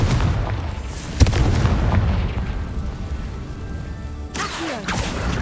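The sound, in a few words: Confringo spell blast in Hogwarts Legacy video game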